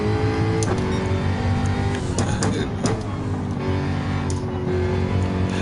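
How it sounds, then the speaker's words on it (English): Race car engine in the Gran Turismo 7 driving game runs loud and steady throughout, a continuous droning roar with slight shifts in pitch and no pauses. "my car sounds quite loud in my ears"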